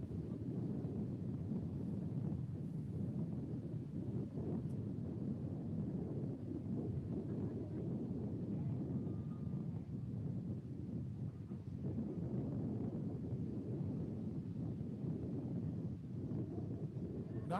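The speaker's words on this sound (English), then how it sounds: "It's just windy and sloppy." Wind at Huntington Beach buffets the microphone, a soft, continuous low rumble that swells and eases in gusts over the whole stretch, fairly faint and with no clear talk.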